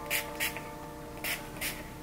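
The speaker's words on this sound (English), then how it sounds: "I'm gonna spray my hair with this Mielle thermal heat protectant spray" Four short hissing bursts of Mielle thermal heat protectant spray misted onto wig hair, evenly spaced over about two seconds, close and fairly soft against a quiet room hum.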